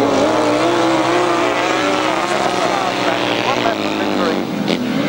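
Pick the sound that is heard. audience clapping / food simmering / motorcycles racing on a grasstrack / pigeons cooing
motorcycles racing on a grasstrack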